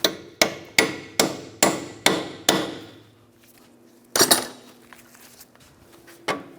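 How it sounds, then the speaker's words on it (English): A hammer taps a 19mm socket onto a rusted outer tie rod nut on a 2003-2008 Subaru Forester: seven sharp, evenly spaced metallic strikes, then a pause with faint scraping and two more close hits. "Take a 19mm socket. Tap that on."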